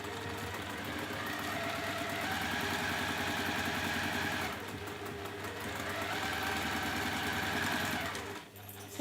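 A sewing machine stitches a line along a textile runner, its motor whirring in a steady close rhythm through two long runs with a brief slowdown between, then stopping at the end.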